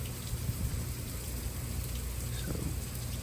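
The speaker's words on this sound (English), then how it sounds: "it is raining now" A steady morning rain falls during a Nashville, Tennessee winter storm, with a continuous hiss of drops hitting surfaces close by and no talking.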